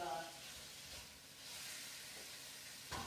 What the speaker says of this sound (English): because this is crackling and sizzling